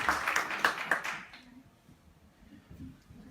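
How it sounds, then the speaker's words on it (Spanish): A short, quiet burst of clapping at an event, a handful of claps lasting about a second before quickly fading into faint room murmur. "Un aplauso para él, por favor."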